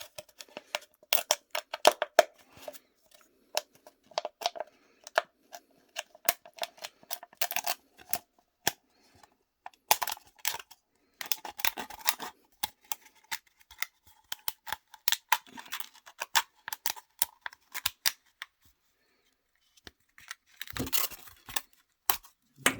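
Scissors snip through a thin aluminium beer can, making sharp, irregular metallic clicks and crunches in quick bursts with brief pauses, close and fairly quiet, with no talking.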